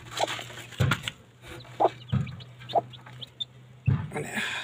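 A hen with two-day-old chicks clucks in short, repeated bursts close by, with soft peeps and rustling between the calls.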